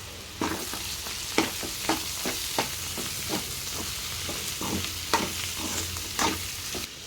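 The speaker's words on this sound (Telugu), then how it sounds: "వేసేసుకొని మొత్తం కలిసేలా కలిపేసుకుందాం" Ginger garlic paste and turmeric being stirred into a teasel gourd curry in a pan, with a steady low sizzle under repeated close scrapes and clacks of a spoon against the pan.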